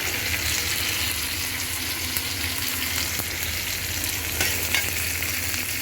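Garlic sizzles in hot oil in a pan, a steady, close crackling fry with occasional stirring scrapes and no voices.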